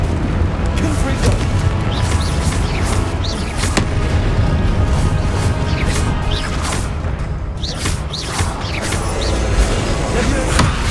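Confringo fire-blast spells are cast in the Hogwarts Legacy video game, producing repeated loud booms and whooshing impacts over a dense, continuous game soundscape. A voice speaks intermittently over the effects.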